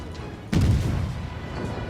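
A single heavy boom of naval artillery firing in the World of Warships game, sharp at onset and then rumbling low and fading.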